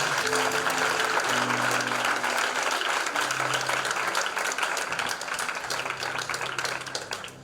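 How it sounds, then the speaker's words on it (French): A church congregation applauds during a night worship service, dense sustained clapping with a low hum of voices beneath, loud and steady throughout. "Acclamons le Seigneur."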